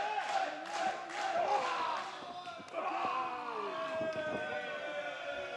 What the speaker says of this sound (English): Chorus of boos now.